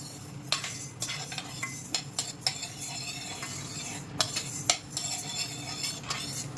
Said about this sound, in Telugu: ఇదిగోండి కందిపప్పు వేయించుకుంటున్నాను